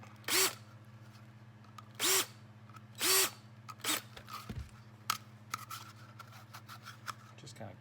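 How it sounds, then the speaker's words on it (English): A countersink drill bit cleans up rough holes in a Rock Island Tac Ultra HC holster, giving three short bursts of high whirring up close, followed by softer scraping and clicks. "So you get a countersink drill bit."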